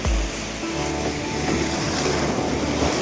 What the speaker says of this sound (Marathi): पाणी उडावता नुसता पायावर